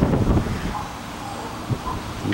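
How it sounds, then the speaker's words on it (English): Wind gusts buffet the microphone in low rumbling bursts, with a soft rustle in the background and no clear speech. "it's windy today"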